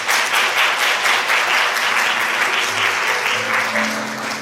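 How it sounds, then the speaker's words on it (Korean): Hearty audience applause at a youth science-communication award ceremony, dense clapping throughout that slowly tapers toward the end. "힘찬 박수 부탁드리겠습니다"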